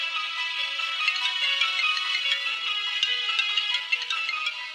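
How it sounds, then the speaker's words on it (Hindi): A phone ringing as a call is placed, a loud, continuous electronic ringtone melody with a bright, repeating pattern that carries on alone for several seconds. "रोहित को फोन करके खुशखबरी देती हूँ"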